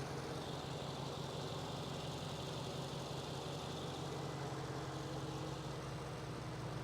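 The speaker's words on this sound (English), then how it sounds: "That almighty twin turbo V8." A 2019 Mercedes G63's twin-turbo V8 idles with a steady, even low rumble heard up close from beneath the vehicle, with no one talking.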